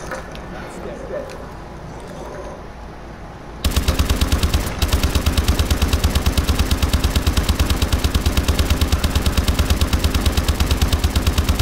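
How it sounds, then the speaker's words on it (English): Rapid, loud automatic gunfire in Call of Duty Zombies, aimed at a small lever, starting suddenly after quiet talk and hammering on in a steady continuous burst. "you lay down right here and start shooting this little lever until it disappears"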